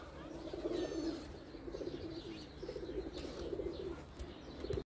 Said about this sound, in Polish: Około 60 przyszło panowie gołębi.